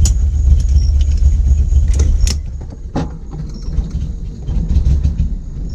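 A Datsun engine low on gas rumbles nearby for about two seconds, then sputters and cuts out, leaving a quieter, uneven idle-like murmur and faint clanks afterward.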